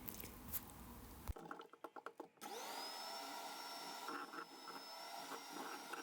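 An electric mixer whirs through carrot cake batter. A few choppy clattering pulses come first, then a steady, close, droning motor whine rises in pitch and holds to the end.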